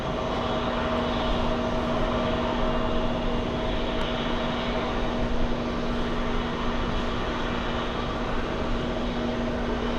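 A steady airport aircraft drone from a parked airliner on a Romanian flight, a constant loud rumble with a fixed low hum running unchanged through the whole stretch.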